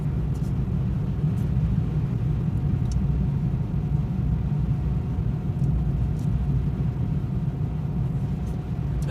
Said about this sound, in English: There's a box truck coming down the road behind me.